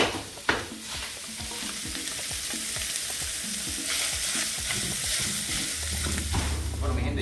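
Black pepper, cumin and red beans sizzling in a pan for stuffed squash, a loud steady frying hiss with rhythmic scraping stirs throughout, close to the pan.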